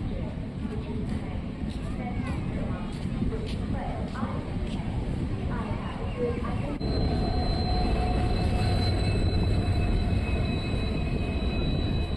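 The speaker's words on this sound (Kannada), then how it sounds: "ನಮ್ಮ ಟ್ರೈನ್ ಈಗ ಬೈಯಪ್ಪನಹಳ್ಳಿ ರೈಲ್ವೆ ಸ್ಟೇಷನ್ನ ಸ್ಕಿಪ್ ಮಾಡ್ತಿದೆ" Steady rumble of a Bangalore–Tirupati Intercity Superfast Express rolling through Baiyappanahalli station without stopping, with a high metallic squeal rising partway through and voices faintly under the noise.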